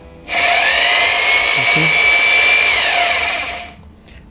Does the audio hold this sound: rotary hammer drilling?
yes